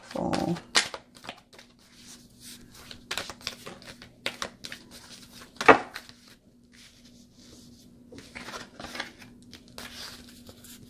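Oracle cards shuffled by hand during a tarot-style reading, a soft run of papery flicks and riffles, fairly quiet and close, with a brief sharp snap midway.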